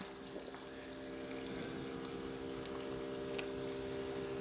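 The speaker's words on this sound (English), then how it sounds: "it does a really good job sparkling the water and mixing in your flavors at the same time" A Ninja Thirsti soda maker hums with a steady pump drone while water gurgles and fizzes as it carbonates and mixes, fairly quiet and continuous.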